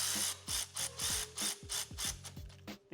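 Rapid bursts of ratchet clicking as bolts are snugged down on the trailing arms of a BMW E36, several quick strokes in a steady rhythm, close and loud with no talk.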